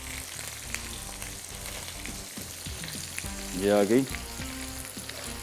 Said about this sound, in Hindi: आँच में इसकी कम कर देता हूँ, थोड़ा सा हल्का सा फ्राई करना है